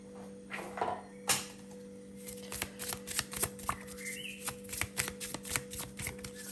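A tarot deck shuffled by hand, a quick rhythmic run of crisp riffles and card slaps close by over a faint steady hum, with no talking.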